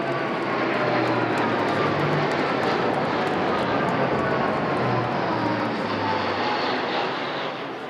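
A Royal Air Force A400M Atlas transport plane passes over during a VE Day 80th anniversary flypast above Buckingham Palace, a loud, steady propeller-engine roar sustained throughout with no talk over it.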